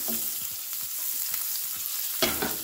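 A pat of butter melting and sizzling in a pan, a dense close crackle with faint ticking pops and one louder scrape near the end, without speech.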